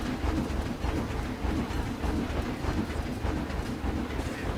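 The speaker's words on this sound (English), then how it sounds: "If you stood on this path, just with the train going past, that's awesome." A train from the Planet Coaster theme park game rolls past, a steady rumbling clatter of wheels on track, loud and continuous throughout, with faint bird calls in the background ambience.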